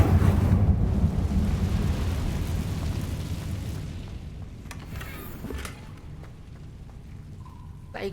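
A fire spell being cast in the video game Hogwarts Legacy, a loud rumbling whoosh and roar that fades over several seconds, followed by faint game effects.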